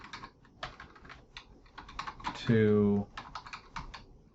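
Clicks from a computer keyboard arrive in quick bursts close by, and someone speaks briefly during a pause in the keystrokes.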